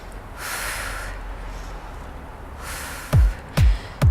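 Sharp, forceful breaths out through the nose during a back pulling exercise, with two short puffs close together near the end after softer breathing sounds earlier.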